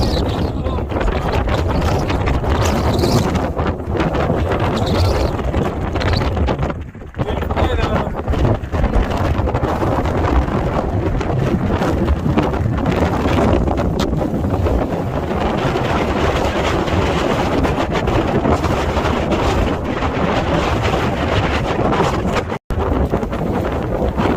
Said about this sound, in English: That is incredibly windy. We are barely hanging on.